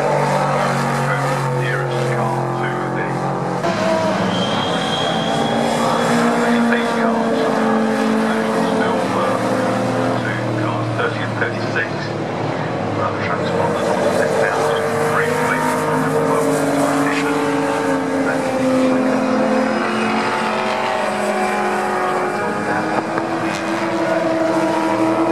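Pre-1966 GT race cars roar around a circuit in a gentlemen drivers' race, engines snarling continuously as cars pass near and far, with a commentator talking over the steady racing noise.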